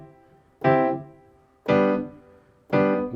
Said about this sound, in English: without the pedal it sounds like this